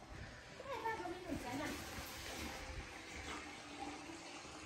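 Water running from a tap into a bucket, a steady rushing splash throughout, moderately close and fairly quiet, with voices talking over it.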